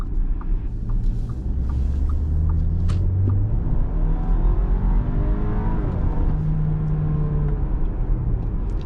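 A 2018 Audi Q5 2.0T SUV engine revs and accelerates loudly from inside the cabin, its pitch climbing through gear shifts over a heavy low rumble.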